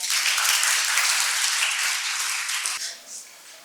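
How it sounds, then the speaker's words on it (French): Audience applause at a French post-university medical teaching session welcomes a speaker to the stage, dense and sustained for about three seconds before trailing off. "Je vous prie de l'accueillir avec des applaudissements."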